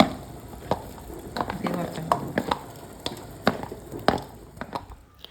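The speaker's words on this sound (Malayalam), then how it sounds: "ഇതൊന്ന് നന്നായിട്ട് ഇളക്കി യോജിപ്പിച്ച് കൊടുക്കുകയാണ് കേട്ടോ" A spoon stirs and mixes an irumban puli pickle mixture in a pan, giving repeated soft scraping clicks and squishy knocks in an uneven rhythm, close and moderately quiet over a faint sizzle.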